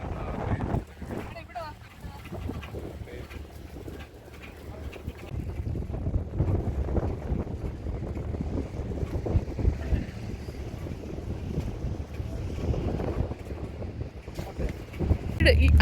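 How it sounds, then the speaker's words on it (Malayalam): Strong wind buffeting the microphone on top of Jebel Hafeet mountain, a continuous low rumbling roar that swells and gusts for the whole stretch, moderately loud. "നല്ല കാറ്റുണ്ടല്ലേ."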